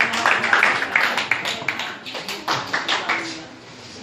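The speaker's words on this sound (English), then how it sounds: "Let's give her a round of applause." A school class debate audience claps for a presenter: a dense patter of hand claps at steady loudness for about four seconds, fading slightly toward the end.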